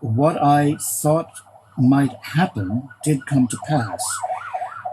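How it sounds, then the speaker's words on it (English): A wailing emergency siren rises and falls in the background under a man's continuous close speech, getting clearer toward the end. "I apologize for the siren in the background"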